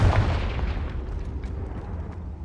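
A Confringo blasting spell bursts in Hogwarts Legacy, a single heavy, booming explosion that hits hard at the start, then rumbles and decays into a low roar.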